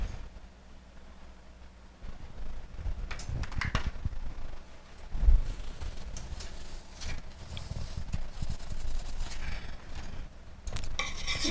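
Softened butter and vanilla being stirred into a warm chocolate pie filling in a pot, with soft scraping and utensil clinks against the pan running steadily, growing a bit busier toward the end.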